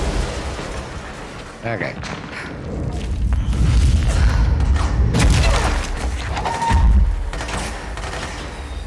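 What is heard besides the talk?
grenade explosions in the video game Control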